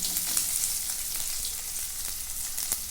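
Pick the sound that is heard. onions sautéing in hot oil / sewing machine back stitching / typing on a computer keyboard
onions sautéing in hot oil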